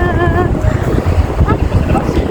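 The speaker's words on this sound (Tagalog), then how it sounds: "Mahangin." Strong wind buffets the microphone on an outdoor walk, a continuous low rumbling roar that swells and gusts throughout with no clear speech.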